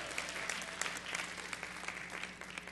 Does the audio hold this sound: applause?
yes